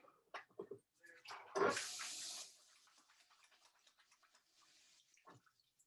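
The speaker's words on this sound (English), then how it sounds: "Let me wash my hands really quickly." Hands are washed under a running kitchen tap, a brief rush of water at close range that lasts about a second before tapering into faint dripping and handling sounds, with soft clinks earlier.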